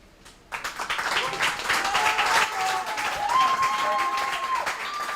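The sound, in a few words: audience applause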